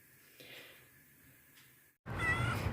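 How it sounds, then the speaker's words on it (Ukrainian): A house cat gives a loud, close meow near the end, after a stretch of quiet, faint background sound. "Ось прийшов наш котик"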